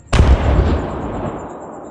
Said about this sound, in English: gunners manned the large deck cannon and opened fire